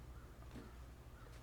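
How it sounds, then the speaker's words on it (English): Crows cawing in the video game The Long Dark, a foggy waterfront in a blizzard, with two faint, distant caws over a steady wind-like background rumble. "I hear crows."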